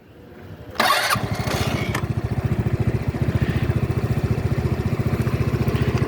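A Volta Apec 125cc motorcycle with an electric starter cranks briefly, catches, and settles into a steady, even putt-putting idle, close and loud, with no talking.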